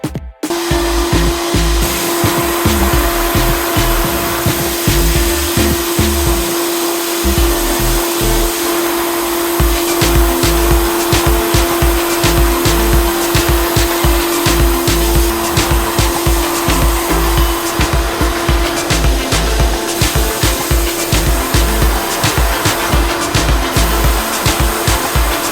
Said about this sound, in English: next we are going to get this into the sandblaster and get this looking a little bit better